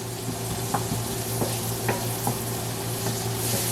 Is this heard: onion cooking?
yes